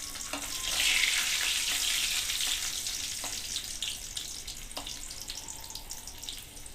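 Ginger, garlic and green chillies fry in a pan with a steady, fairly loud sizzle, broken by a few sharp spoon scrapes and taps against the metal.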